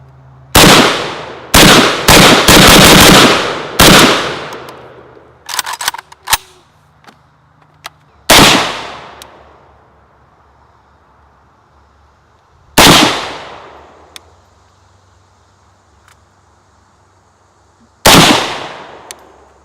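Rifle shots from a VEPR AK-47 or M92 PAP short-barreled rifle fired at targets on an outdoor range: loud, sharp reports, a quick cluster of several shots early, then single shots spaced several seconds apart, each trailing off in echo.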